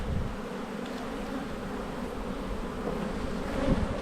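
Honey bees swarm around an open hive during a late-season honey check, a dense continuous buzz close by and fairly quiet, with no voices.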